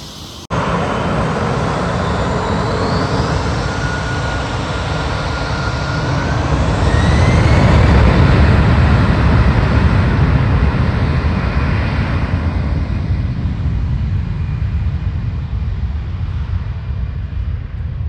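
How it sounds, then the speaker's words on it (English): A plane passes low near Manchester Airport, a loud jet roar that swells to a peak midway with a rising engine whine and then slowly fades, with no talking. "I was really interrupted by the planes."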